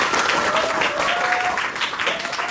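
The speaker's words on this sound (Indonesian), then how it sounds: "Terima kasih tepuk tangan untuk kita semua." A class claps steadily throughout, a dense even patter of applause at moderate loudness.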